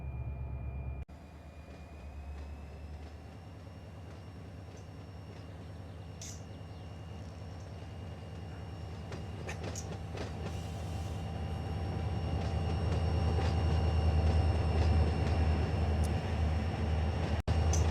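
A simulated locomotive in Run8 Train Simulator working a hump yard, a steady diesel engine rumble with a faint high whine that grows louder and fuller as power notches up, running continuously without talk.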